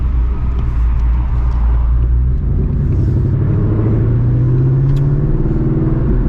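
Catless Ford Mustang GT V8 driving through Houston streets, its engine and exhaust a loud, steady low rumble that rises in pitch as it accelerates through the gears, heard from inside the car with no talk.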